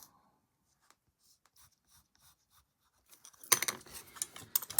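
A craft knife cuts into the wood of an antique doll house door. Faint, scattered scrapes come first, then a loud, close, rasping run of cutting strokes in the final second or so.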